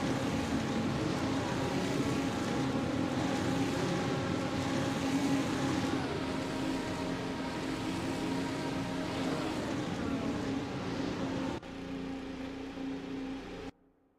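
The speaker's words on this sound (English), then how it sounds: "Revving their engines, rearing and ready to go" Race cars idle and rev on the starting grid at Spa, a dense layered engine drone with wavering pitches that holds loud and steady, then drops in level and cuts off near the end, with no talk.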